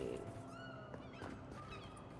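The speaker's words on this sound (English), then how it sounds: "That definitely just sounds like a cat." A cat meows in the video game Avowed, a few soft, rising cries heard over steady game ambience and background music, with no talk.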